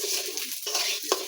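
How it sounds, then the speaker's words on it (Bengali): Moong dal frying in a little oil, a soft steady sizzle with gentle scraping strokes of a spatula stirring the lentils in the pan. "তারপর সামান্য একটু তেল দিলাম, তারপর মুগ ডালটা দিয়ে দিচ্ছি। একটু ভাজা ভাজা করে নিতে হবে"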